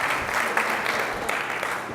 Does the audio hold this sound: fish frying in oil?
no